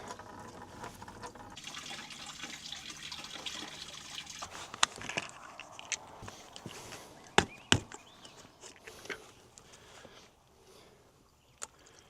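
Coolant pours from the radiator drain of an old, roughly thirty-year-old truck, a steady watery splashing and trickling up close with a few sharp clanks and knocks partway through, and it thins out near the end.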